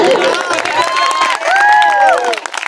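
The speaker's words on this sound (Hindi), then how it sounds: "ताली बजाओ भाई" A crowd claps and cheers at a live village folk song performance, dense applause mixed with loud voices shouting and singing over it throughout.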